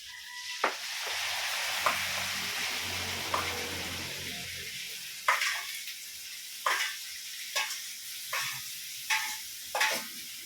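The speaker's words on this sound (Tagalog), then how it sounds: "Igisa na natin to guys." Food is sautéed in a pan over a charcoal fire: a soft, continuous sizzle at first, then a run of regular scraping strokes roughly every second as it is stirred, with no talking.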